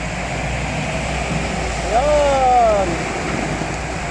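Strong, fast-flowing floodwater rushes in a steady broadband roar that fills the whole clip, with a brief rising tonal sound near the middle riding over the continuous wash of water.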